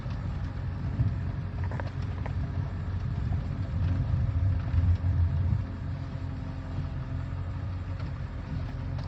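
Car driving on flat tires over a bumpy, icy road during an ice storm, heard from inside as a continuous low rumble with uneven jolts, fairly quiet and steady.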